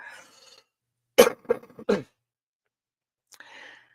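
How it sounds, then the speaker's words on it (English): A few quick, close coughs from a sick speaker in a short burst, with faint murmured talk before and after in an otherwise quiet space. "Sorry, I'm gonna cough."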